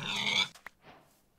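A short, fairly loud pig grunt from a Minecraft pig, followed by quieter snuffling oinks that fade out within about a second.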